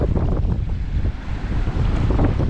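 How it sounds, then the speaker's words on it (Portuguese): Strong wind roars across a deserted beach where a river meets the sea, buffeting the microphone with a steady, heavy rumble and faint surf underneath, with no voices. "Tá ventando bastante, pessoal."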